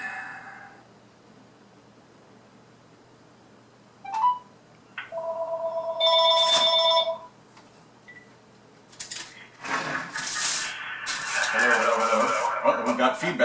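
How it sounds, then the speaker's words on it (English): A cell phone rings from a landline call, with short beeps and electronic tones that turn into a louder burst of ringing and noisy feedback near the end. "I'm going to call my cell phone on a landline here"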